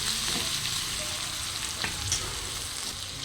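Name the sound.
stirring onion and coriander frying in a pan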